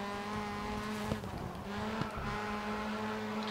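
Race car in the Grid Autosport video game leaving the track, with a steady loud engine drone and tire noise, two brief sharp thuds or impacts standing out partway through.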